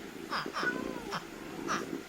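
Several cat meows from a pet mod in the video game Minecraft, four short calls spaced across the moment, fairly close and clear over a steady low background hum.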